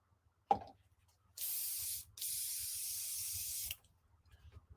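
An airbrush sprays paint in two loud steady hissing bursts, about a second and then nearly two seconds long, with a short gap, after a sharp click, close by in a quiet room.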